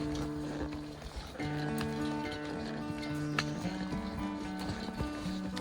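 Horse hooves clop along a trail in the Great Smoky Mountains at a brisk walking pace, with a steady hum and some outdoor background noise running underneath.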